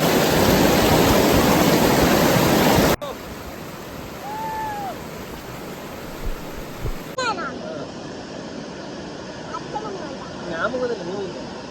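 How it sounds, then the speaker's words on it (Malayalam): Waterfall near Kanayi Kanam in Payyanur, Kannur: a loud, steady broadband rush of falling water for about three seconds, then a quieter, more distant wash of water with faint birdlike chirps over it. "ഇന്ന് ചെയ്യുന്നത് ശരിക്കും ഞങ്ങളുടെ വീടിനടുത്തുള്ള ഒരു വെള്ളച്ചാട്ടമാണ്"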